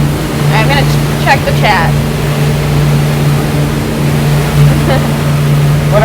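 A boat engine drones steadily while cruising out of a marina, a loud continuous hum with water noise beneath someone talking briefly.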